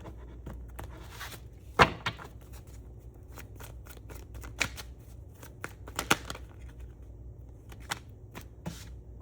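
Tarot cards being shuffled by hand, a series of crisp riffling bursts and soft taps spaced irregularly across the stretch, close and fairly quiet with no talking.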